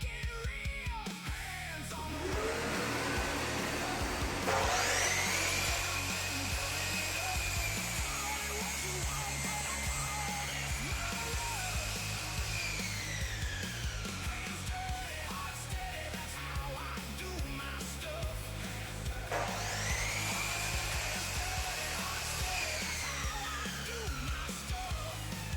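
Miter saw cutting a bevel through pressure treated wood, two loud sustained whining cuts with the motor spinning up, biting through the board and winding down, separated by a pause.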